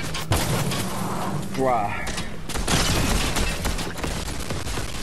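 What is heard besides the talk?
gunshots in a video game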